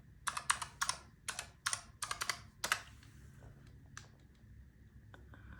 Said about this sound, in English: Let me type this in and see what that's called for you guys